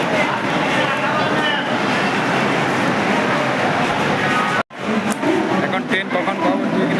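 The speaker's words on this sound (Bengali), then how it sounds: "এটা হচ্ছে হাওড়া স্টেশন।" Howrah railway station, busy and crowded: dense continuous rumble of trains and platform noise with overlapping voices, broken by a brief dropout.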